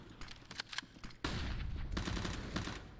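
Gunfire in a Counter-Strike match sounds as a burst of sharp shots, followed by a sustained, dense rattle of rapid fire that carries on to the end, with no talking over it.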